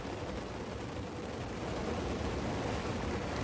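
Steady downpour drums on a roof top tent atop a Range Rover on a muddy slope, a constant dense hiss and patter, near and unbroken, with no voices.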